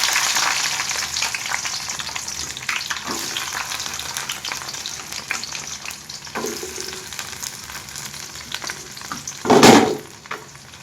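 Small shallots frying in hot oil with curry leaves for a Tamil fish curry, a steady close sizzle throughout with occasional stirring scrapes and a loud clatter near the end.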